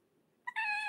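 A kitten gives a single clear, fairly loud meow after a short quiet lead-in, with a brief chirp just before the sustained call; it comes from a household with several cats.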